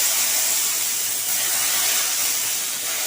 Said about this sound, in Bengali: এই তেলটার ওপরে আমি সামান্য একটু জল ছিটিয়ে দেব